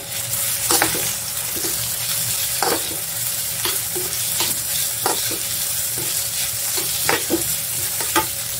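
Ground meat frying in a pan for stuffed milkfish (relyenong bangus), with a continuous sizzle and regular stirring scrapes at about one-second intervals, close and steady with no talk.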